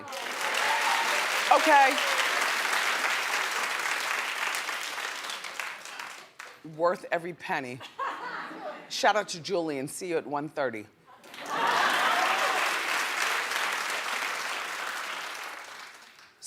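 An audience bursts into sustained applause and cheering, breaks off while someone speaks over scattered laughter, then claps again loudly at the end.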